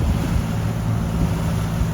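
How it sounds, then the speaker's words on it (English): Strong wind on the water buffets the microphone in a continuous low roar, loud and unbroken from start to finish. "It's pretty windy"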